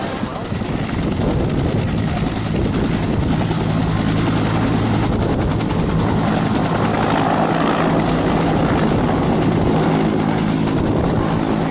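A Huey helicopter roars close by with a steady, heavy rotor thump and engine whine that continues without a break.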